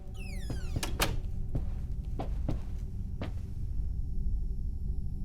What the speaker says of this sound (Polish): Nie mogę zamknąć tych drzwi?